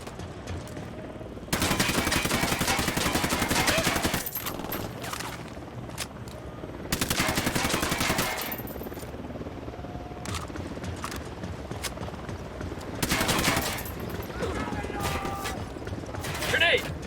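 Loud bursts of automatic gunfire in the tactical shooter Ghost Recon Wildlands, three sustained volleys of rapid shots separated by quieter stretches of battlefield ambience and distant scattered fire, with faint voices underneath.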